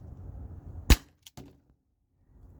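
A T4E HDP50 CO2 pistol firing 2.7 gram aluminum balls through a chronograph gives one sharp, close crack, followed by a couple of short impact clicks and then quiet.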